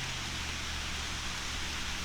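Rain falling in Loyalsock State Forest at a vista, a steady, even hiss of drops with no distinct pattering, moderately loud and constant for the short stretch.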